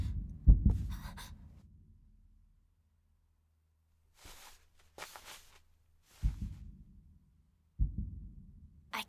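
Soft, low thumps come in a few separate clusters with pauses between them, like a muffled heartbeat heard close up against a quiet background.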